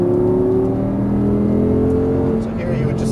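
An Audi R8 on a racetrack accelerates out of a corner apex. The engine drone is loud and steady and rises slightly in pitch, with a voice talking over it.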